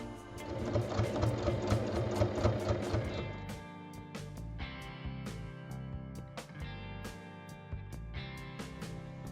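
A sewing machine topstitches around the edge of a floral fabric bag, its needle hammering in a fast steady rhythm for a few seconds, then running in shorter bursts separated by brief pauses, close and clear with no talk.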